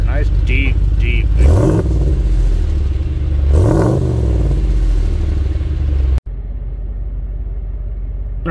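A 2018 Dodge Ram Power Wagon pickup with a Magnaflow cat-back exhaust revs twice with deep rumbling swells over a low idle, then cuts to a quieter steady drone.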